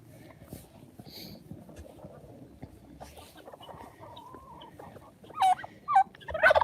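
Guinea fowl give harsh, loud calls that build near the end, over a low, busy outdoor background of rustling and faint clucks.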